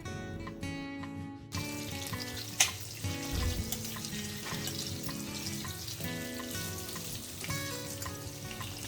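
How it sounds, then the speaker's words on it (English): Sliced onion and chopped green chilies frying in a pan, a steady quiet sizzle running throughout with faint clinks and background noise. "Add about 1 sliced onion and 4 chopped green chilies and fry until onions turn to translucent."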